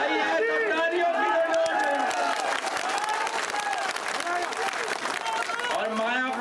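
Loud crowd applause and cheering at a Lok Sabha 2024 election rally in Mayapur, Shivpuri, steady and dense throughout, with shouting voices mixed into the clapping.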